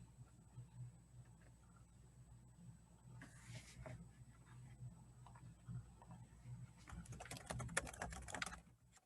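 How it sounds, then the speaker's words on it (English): Typing on a computer keyboard: quiet, steady clicking of keys through the whole stretch, growing into a faster, louder burst near the end, with no voices. "Sorry if the typing blew up anybody's ears."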